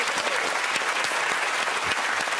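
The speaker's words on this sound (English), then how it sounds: "that is one of the most patronising rounds of applause you'll ever hear" A studio audience at a comedy game show breaks into sustained, dense applause, loud and even throughout the short burst.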